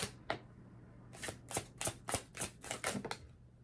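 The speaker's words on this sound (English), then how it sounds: "I was about to stop shuffling" Tarot cards being shuffled by hand, a quick series of crisp riffling bursts in an irregular rhythm, close and fairly quiet over a faint low hum, with no talking.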